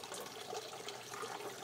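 Water gushing down an aquaponics clarifier pipe built from a 5-gallon water jug, pushed through by a hand along with gunk; a steady, close, even rush and gurgle of flowing liquid with no voices.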